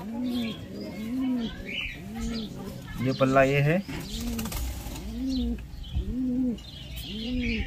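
A male blue pigeon coos in a steady repeating series of low rounded calls, close and clear, with a brief flutter of wings midway and someone talking over parts of it.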